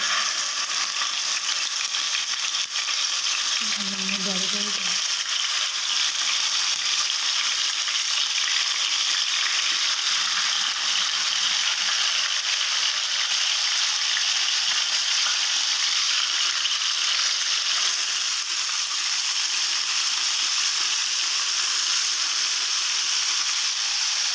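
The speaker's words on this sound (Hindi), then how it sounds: "ऑयल हमारा जैसे ही गर्म होता है हम इनमें स्टिक को डालेंगे।" Chicken shashlik sticks fry in hot oil, giving a steady, dense sizzle that stays close and loud throughout, with a brief low knock near the start.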